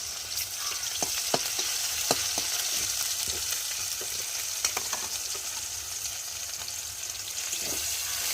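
Garlic frying in hot oil in a pan, a steady close sizzle with scattered sharp crackles and pops throughout, no voices.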